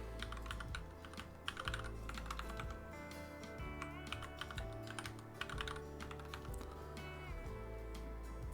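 Password being typed on a computer keyboard, quiet, close and fairly rapid key clicks in irregular bursts for several seconds, with no speech.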